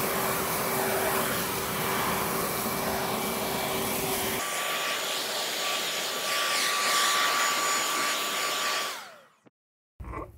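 Cordless 36V leaf blower and vacuum (DUB363ZV) running at maximum power, a loud steady broadband roar with a whining tone that shifts pitch midway, then cuts off abruptly near the end with a brief click.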